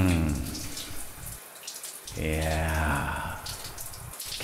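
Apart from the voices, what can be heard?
shower water running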